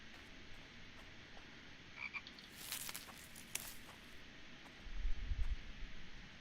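Croaking frog in a game's outdoor setting, a continuous raspy chorus over background hiss with a louder swell in the middle and low thumps toward the end, no voices.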